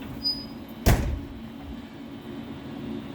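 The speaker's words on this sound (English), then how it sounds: "close the front door." A school bus front door swinging shut during a pre-trip inspection, one sharp thud followed by a short rattle, with quiet cabin hum around it.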